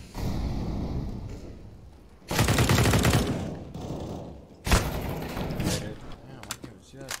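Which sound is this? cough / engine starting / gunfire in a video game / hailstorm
gunfire in a video game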